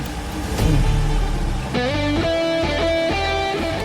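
A car engine cranks and catches, then settles into a steady running rumble with a rising rev, loud and close.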